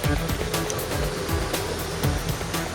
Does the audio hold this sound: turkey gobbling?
no